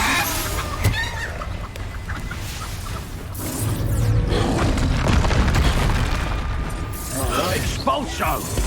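An Expulso spell explosion in Hogwarts Legacy, with a loud booming blast surging through the middle of a busy game fight full of creature squawks, clattering effects and in-game voices.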